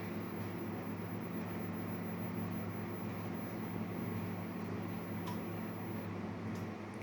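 A laboratory centrifuge rotor spinning down after a run, giving a steady low mechanical hum with a faint airy whine and no voices.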